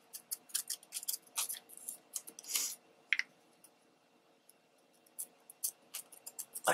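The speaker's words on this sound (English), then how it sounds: "you're going to take your scissors and turn them in a little bit." Scissors snip through book page paper in a paper craft, a quick run of crisp close cuts, then a pause and a few more scattered snips, with no talking.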